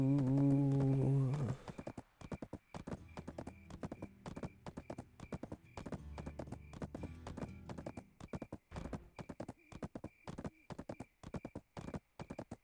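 Horse hooves in a video game clip-clop in a steady, rhythmic trot after a short tonal sound at the start, sounding crisp and fairly close against quiet gaps.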